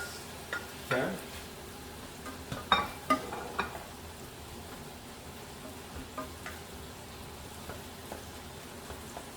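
Vegetables for a keto Vietnamese chicken curry sizzle in a pan while a spoon stirs them, with a few sharper scraping knocks early on over a steady low crackle and no talking.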